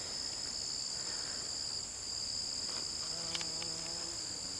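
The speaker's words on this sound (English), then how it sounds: "Here's a bee. Hey, bee." In a Louisiana organic garden, a bee buzzes briefly and faintly near the microphone, its drone rising late in the clip over a constant high shrill of crickets or other insects, with no talk.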